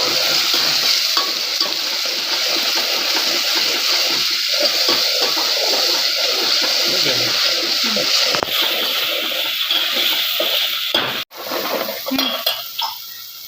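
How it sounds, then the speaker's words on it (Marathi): Tomato paste sizzling loudly in a pan for a peanut and makhana curry, a dense continuous hiss and crackle with stirring, close up, briefly dropping near the end before resuming. "आणि ह्या 3 टमाटाचा पेस्ट आहे, हा पण यामध्ये टाकायचा आहे।"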